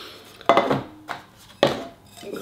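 A Firebox frying pan is picked up and set down with three sharp metallic clanks and a softer knock between them, close by and with no other sound.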